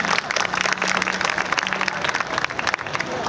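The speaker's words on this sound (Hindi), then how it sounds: "इस बच्चे के लिए भी आप ताली बजाएं।" An audience applauds a student at a felicitation ceremony for Madhyamik and higher secondary toppers, with steady, dense clapping from a hall crowd and faint voices underneath.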